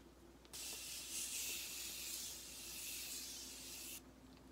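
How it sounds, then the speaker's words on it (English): A Morphe Continuous Setting Spray makeup spray gives a steady hissing burst lasting about three and a half seconds, close by, with a soft fine-mist texture. "I'm going to take the Morphe Continuous Setting Spray that we used earlier."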